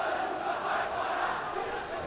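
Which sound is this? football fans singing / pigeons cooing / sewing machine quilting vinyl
football fans singing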